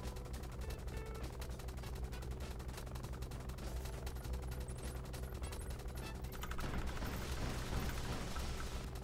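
Helicopter-mounted heavy-bullet gunfire in the online game War Tycoon, dense rapid bursts of automatic fire rattling continuously, with a rougher, heavier rumble toward the end.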